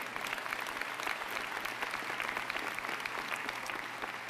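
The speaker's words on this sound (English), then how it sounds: "you deserve applause for that" A commencement audience at Purchase College, State University of New York, breaks into sustained applause, a dense, even wash of many hands clapping that fills the space without a break.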